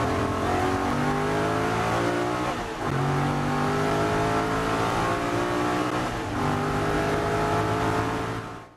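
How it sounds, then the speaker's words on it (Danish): An Aston Martin race car's engine roars during the Dubai 24 Hours endurance race, loud and close, climbing steadily through the gears with short dips at the gear changes and no talking over it. "nyd så også lige den kernesunde Aston Martin-lyd"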